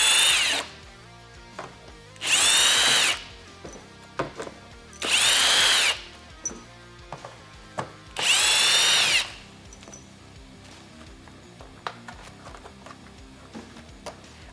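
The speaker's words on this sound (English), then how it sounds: "I'm going to grab the T20 Torx driver here and remove these 4 screws." A T20 Torx power driver backs out the screws on a Ford F-150 third brake light, running in four loud whirring bursts of a second or so each. Faint ticks and small clicks fill the gaps between bursts.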